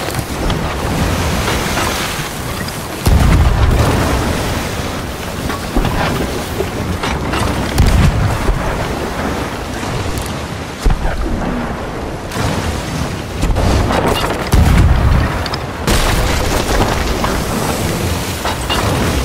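Ship cannons fire at sea in the game Sea of Thieves, giving a few heavy booms several seconds apart over constant rushing wind and water.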